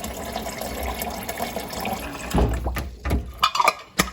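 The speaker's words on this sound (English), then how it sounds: "So, filling up my water again today." Water runs from a tap into a bottle as it is refilled, a continuous gushing stream that shifts and gurgles toward the end, fairly loud and close with no talking.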